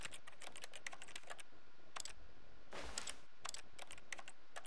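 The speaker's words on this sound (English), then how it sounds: "every time I press my use key," Quick bursts of keyboard key clicks from the use key in the video game The Stanley Parable, several in a row and then pauses, crisp and close against a faint steady hum.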